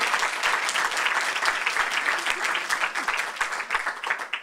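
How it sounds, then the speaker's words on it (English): Audience applause for a panel of women business owners at a regional business forum, steady dense clapping throughout, close and fairly loud, with no talking over it. "let's give these women a round of applause"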